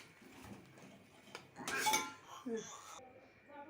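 Fried cashews and raisins are tipped from a pan into a pot of milk payasam and stirred, giving faint metallic clinks and scrapes of a spoon against cookware, with a louder clatter midway.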